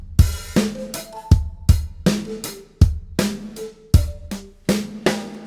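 A MODO drum plugin kit with a heavily saturated, compressed kick plays a steady beat, the thick, punchy kick driving a regular pattern with snare cracks and pitched tom accents, loud, close and continuous.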